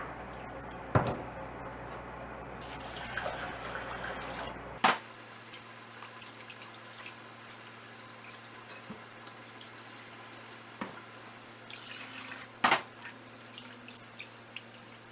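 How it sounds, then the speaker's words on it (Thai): Glutinous sticky rice, soaked two hours, rinsed by hand in clean plain water in a kitchen, with close, quiet sloshing and dripping, a few sharp splashes at intervals, and a faint steady hum underneath, no voices. "แล้วก็ทำการซาวข้าวนะคะ ด้วยน้ำเปล่า น้ำสะอาดนี ่แหละ ประมาณ 3-4 รอบเลยค่ะ"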